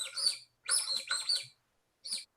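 Bird calls from the mechanism of a 19th-century pop-up sound book for children: four bright chirping squeaks, three close together and one after a short pause, clear and nearby with no talking.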